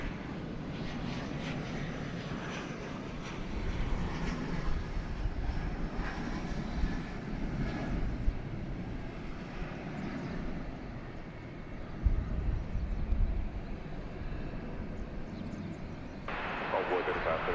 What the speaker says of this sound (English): here's an Embraer 170